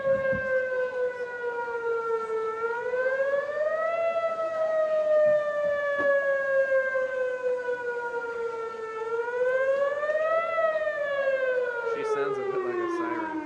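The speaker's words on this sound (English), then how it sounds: "Sounds a bit like a siren." A siren at a Lake Forest Day parade wails steadily, its pitch slowly rising and falling in long sweeps, loud and sustained for the whole stretch without any speech.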